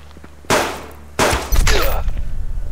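Hunting rifle gunshots in the survival game Subsistence: two sharp, loud cracks about half a second apart, then a third blast trailing into a rapid rattling echo, with no talking.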